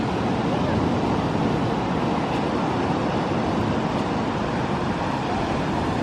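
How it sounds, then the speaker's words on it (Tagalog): Big surf pounds Nacpan beach under strong habagat monsoon wind, a loud, continuous broadband roar with no distinct breaks between waves. "today medyo hanging habagat man ta, dagko kayang waves, as in super"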